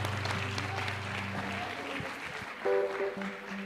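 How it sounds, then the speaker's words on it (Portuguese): Congregation applauding the fathers during an evening church service, a broad steady wash of clapping under a sustained music bed with held tones, continuing throughout. "Cadê as palmas para os nossos papais?"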